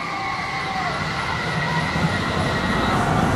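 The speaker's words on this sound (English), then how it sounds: "being at the rear of the train, so here they go." A roller coaster train pulls away at Dorney Park amusement park, giving a steady, loud rumbling clatter of wheels on track that builds slightly over a few seconds, with no talking.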